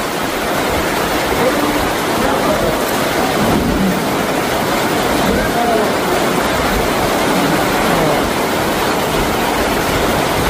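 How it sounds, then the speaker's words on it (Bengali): Steady, dense rush of heavy rainfall at Nandail lake, loud and continuous throughout with no breaks. "অনেক বৃষ্টি হচ্ছে,"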